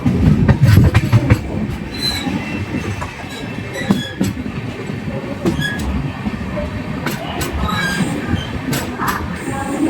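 A train rumbles past close by, wheels clacking over rail joints with occasional metallic squeals, a steady heavy roll throughout, on a line in Tamil Nadu, India.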